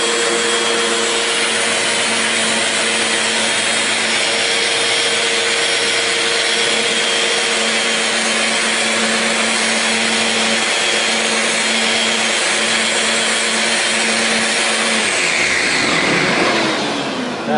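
A Festool Rotex RO 150 dual-action sander runs in random orbit mode on wood, a loud, steady motor whine with a constant hum and rough abrasive hiss, close up and unbroken before winding down at the end.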